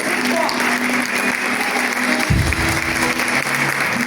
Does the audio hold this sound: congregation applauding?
yes